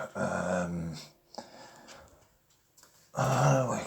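A dog inside a home gives two deep, throaty growls at close range, the first stretching nearly a second and the second rising after a quiet pause filled with faint rustling.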